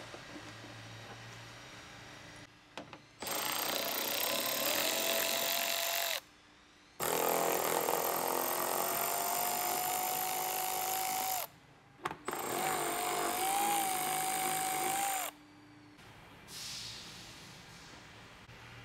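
A power tool whirs in three long bursts with short pauses between, close and loud, as 10mm bolts are backed out of a Toyota Tacoma front bumper.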